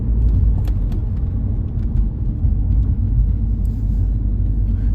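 An Audi TT rolls along slowly, its engine a low steady rumble with road and cabin noise, moderately loud and continuous without any revving.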